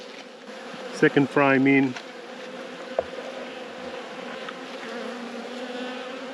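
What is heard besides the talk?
honey bees buzzing in a hive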